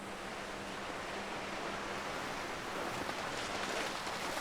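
A waterfall in the video game Lost Ember gives off a constant, full rushing roar of falling water. It stays at an even loudness throughout, with no voices over it.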